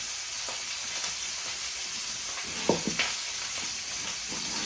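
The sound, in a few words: cabbage and venison sausage sizzling in a pan, cooking too fast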